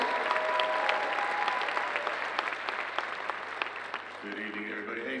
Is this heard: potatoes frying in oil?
no